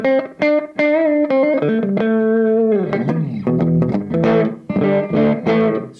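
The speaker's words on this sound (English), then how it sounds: "sort of a touch of spring reverb, so to speak" Electric guitar notes and chords with a reverberant, slightly splashy tail, each strum ringing out briefly; played alone, moderately loud.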